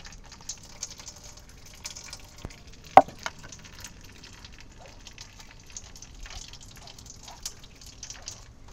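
Water drains through a small kitchen sieve while potato pulp is rinsed to make potato starch, giving faint, scattered drips and soft taps with one sharper click, against a quiet room.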